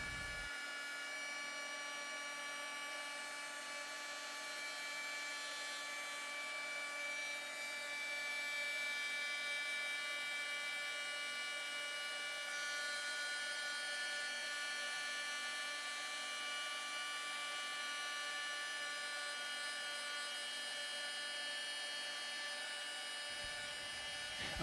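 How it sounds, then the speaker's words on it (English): A heat gun blows hot air onto the surface of an epoxy tumbler, giving a steady, fairly loud whine and rush of air that holds constant for about 24 seconds with no pauses and no voices. "placing the heat gun as close as possible to the epoxy tumbler surface, blow it with hot air"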